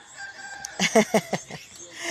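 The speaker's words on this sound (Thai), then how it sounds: "ได้ยินเสียงไก่ขัน" A rooster crows once nearby, a loud drawn-out call rising and falling in several pulses, standing alone against a quiet rural background.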